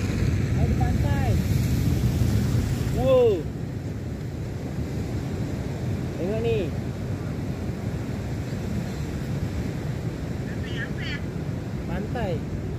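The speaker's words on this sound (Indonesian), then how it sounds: "Pantai. Ya, besar ombaknya." Big ocean waves break on a beach, a continuous rushing roar of surf with wind noise, while people talk and exclaim over it.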